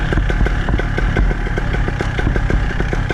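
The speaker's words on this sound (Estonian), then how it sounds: "Mootor töötab." A motor engine runs steadily and loudly throughout, with a rapid rhythmic clatter over a low rumble.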